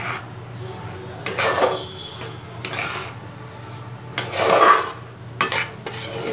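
A spoon scrapes and clinks against a pan while stirring a sweetened bread barfi mixture over low flame, the scraping coming in short intermittent bursts, and a voice can be heard between strokes.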